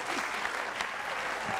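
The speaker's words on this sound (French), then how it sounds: "Applaudissez pour Collins." An audience claps steadily on a comedy show stage, a dense, even burst of applause lasting a moment and heard at moderate distance.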